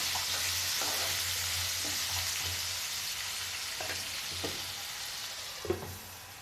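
Potatoes for an egg curry sizzle and fry steadily in a pan, a constant close hiss with a few faint clinks and scrapes, no talk.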